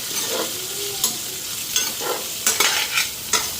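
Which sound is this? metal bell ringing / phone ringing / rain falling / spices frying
spices frying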